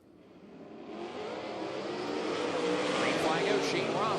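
Dirt-track 360 sprint cars roar away at the green flag of an eight-lap heat race, engines swelling into a loud sustained rising drone, with a track announcer talking over them.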